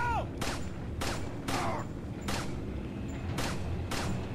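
Handgun gunshots in the Resident Evil 4 video game, six sharp separate shots fired at uneven intervals over a few seconds, loud and close over a low game background hum.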